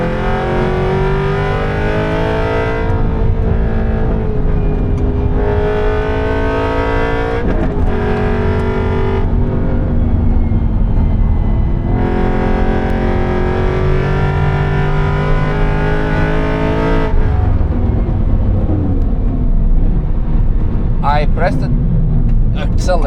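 A track-built Aston Martin Vantage V8 lapping the Nürburgring, its engine heard from the cabin rising through the revs in repeated loud pulls, dropping sharply at each gearchange and lifting again, with someone talking over the engine.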